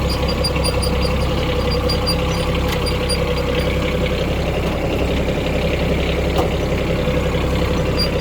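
Kubota Aste A13 compact tractor engine idling nearby, a steady loud diesel rumble with an even low throb and constant mechanical hum throughout, no talking.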